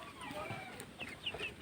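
Tiger chickens on a poultry farm make soft, short clucks in a quick run, faint and nearby against a low background hum.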